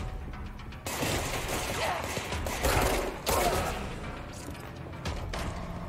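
Sustained gunfire from the video game Control, dense rapid shots and impacts layered together for several seconds, loud and close, with brief lulls between bursts.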